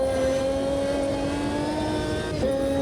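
A Lamborghini Murcielago RGT GT1 race car engine in Automobilista 2 at Road Atlanta holds a high, steady roar with strong harmonic tones, briefly dipping and rising as if shifting or lifting off the throttle.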